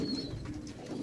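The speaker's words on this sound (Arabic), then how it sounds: "كل الحمام اللي في الارض ده حمام شباب لسه ما اشتغلش" Young pigeons on the ground of a loft coo softly in a low, rolling murmur, close and continuous with no talk over them.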